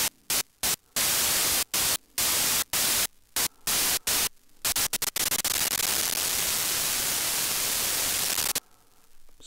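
Loud gated synthesizer noise from a Dreadbox Dystopia Eurorack module switches rapidly on and off in choppy bursts, then holds steady for a few seconds before cutting out to near silence.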